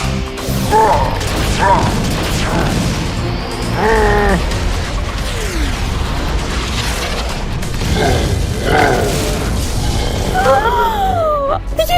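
A cartoon robot fires its rocket punch: a dense, loud barrage of mechanical clanks, booms and rising and falling synthetic whooshes that runs continuously, with animated voices in the mix.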